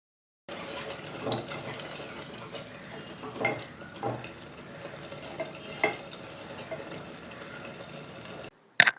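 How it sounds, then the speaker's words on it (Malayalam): Masala thinned with water bubbles and sizzles in a pan for egg roast, a soft steady simmer with occasional louder stirring scrapes near the microphone. "ഇപ്പോൾ മസാലകളൊക്കെ നന്നായിട്ട് തിളച്ചു വന്നിട്ടുണ്ട്"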